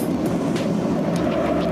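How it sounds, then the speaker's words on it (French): Moscow metro trains run just behind a door deep underground, a loud, continuous rumbling roar with faint rhythmic wheel clatter. No one speaks over it. "C'est les rames qui passent derrière. Juste derrière cette porte, circule le métro moscovite."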